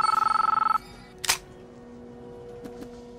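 A telephone ring tone on an outgoing call, a clear steady pulsing burr lasting under a second at the start, followed by a brief clunk and faint clicks.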